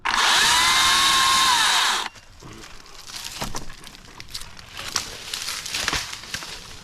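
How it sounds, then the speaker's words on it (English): A Makita top handle chainsaw revs loudly for about two seconds, a high, buzzing whine that cuts off abruptly, followed by quieter clatter and handling noises. "sort of rev the chain up before you touch anything with it"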